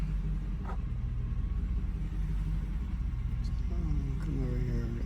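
A car engine idles at low RPM, slightly below its target, as a steady low rumble close by with a brief voice heard under it.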